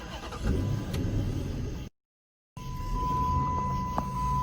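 A Chrysler 300C engine turns over and runs steadily after a brief silent gap, with a faint whining tone riding over the hum.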